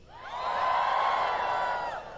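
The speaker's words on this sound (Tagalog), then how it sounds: "Kaunting sigaw lang." A church congregation at an El Shaddai healing service lets out a sustained shout and cheer, a loud crowd roar swelling up and holding steady for about two seconds before easing slightly.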